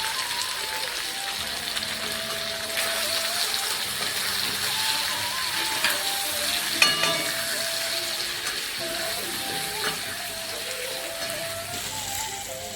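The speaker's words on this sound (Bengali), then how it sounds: "পেঁয়াজের সাথে চিকেন আমাদের ভালোভাবে ভাজা হয়ে গেছে।" Chicken and onions frying in a pan, with a steady close sizzle and crackle throughout, a few sharper pops, and faint tones in the background.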